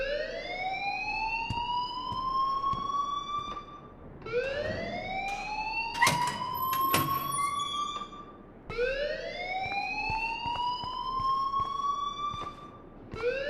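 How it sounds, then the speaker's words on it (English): A wailing electronic alarm in the video game Life Is Strange rises and sweeps in repeated cycles of about four seconds each, with a brief burst of clattering and buzzing noise in the middle, moderately loud and without talk. "please turn off that alarm since that's your job"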